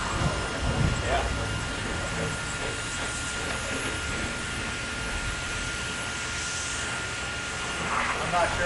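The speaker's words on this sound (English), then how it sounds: "I'm not sure if I like the blower or not" A wood gasifier's blower runs steadily on a first test run, a continuous broadband whoosh with a faint high whine, with brief voices over it.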